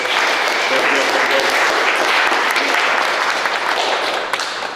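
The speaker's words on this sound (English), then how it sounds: "Let's give them a round of applause though in spirit." A team meeting audience gives a steady, dense round of applause for anniversaries and birthdays, many hands clapping continuously for several seconds at close range.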